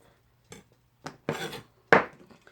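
Knife cutting potatoes into small dice on a cutting board, a few separate sharp chops and scrapes with quiet gaps between them, close and fairly soft, with no talking.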